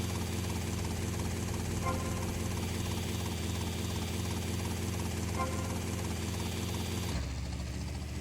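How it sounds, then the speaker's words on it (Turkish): A helicopter engine in the video game GTA Vice City drones with a steady mechanical hum and rotor whir, continuous and fairly faint, dropping off abruptly near the end. "Ya o kadar dandik ki bu helikopter."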